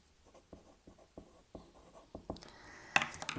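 Marker or chalk writing on a classroom board: a series of short scratchy strokes over about two seconds, close by, followed by a louder scrape and rustle at the end.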